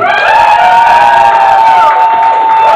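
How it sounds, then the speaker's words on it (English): A crowd at a battle of the bands loudly cheers and applauds a band, with shouting voices rising over steady clapping for the whole stretch. "another big round of applause, please"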